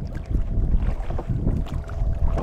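A small wooden fishing boat rocks on the open sea in strong wind, with continuous low rumbling wind buffeting and water sloshing against the hull, loud and close, without speech.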